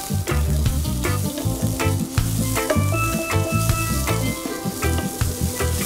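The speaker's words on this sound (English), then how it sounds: "give it a quick stir, just to coat the corn and onion evenly together" Corn and onion stirred together in a frying pan for samosa filling, a loud, close, continuous sizzle punctuated by repeated spatula scrapes and knocks, heard alone without speech.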